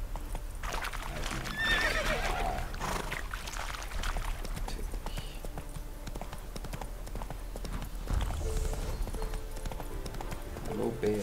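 A horse in the video game The Witcher 3 clip-clops along at a steady gait and lets out whinnies, with someone talking over the hoofbeats much of the time.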